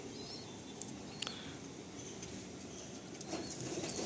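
Pigeons in a loft flutter their wings in brief soft bursts and give occasional faint coos over a quiet, steady background hum.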